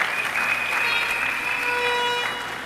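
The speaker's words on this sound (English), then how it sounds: "Give him a round of applause, Derek Walcott." A brief round of applause for poet Derek Walcott during a candidates' presentation, a short wash of clapping with a faint tonal hum beneath it.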